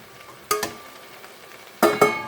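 Courgettes dropped into a pan where pork and aubergines are already frying for ratatouille, with two clattering bursts of stirring and utensil knocks over a faint steady sizzle.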